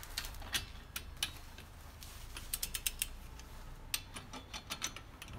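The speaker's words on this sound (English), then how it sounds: "now we're just going to tighten the wheel 103 foot-pounds" A torque wrench tightens the wheel lug nuts on a 2000 Saturn SL2 after a brake pad and disc rotor change, giving faint, close, clicking ratchet ticks in irregular short bursts over low background hum.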